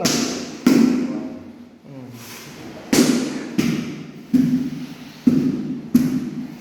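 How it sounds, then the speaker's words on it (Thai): Dull, hollow thuds from a rubber mallet tapping floor tiles into place, seven or eight blows at an uneven pace, close up with quiet gaps between them. "ต้องใช้ค้อนยางเคาะนะครับ เราอย่าไปใช้ค้อนเหล็ก"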